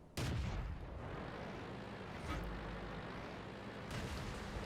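Tank cannon fire during a World of Tanks battle involving a Matilda Black Prince, with heavy booming shots and a rumbling low engine bed, a few loud blasts standing out over continuous battlefield noise.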